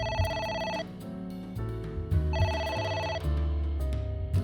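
A phone rings in the AI: The Somnium Files video game as a bright, repeating electronic ringtone melody in clear cycles with short pauses, loud and up front with no talk.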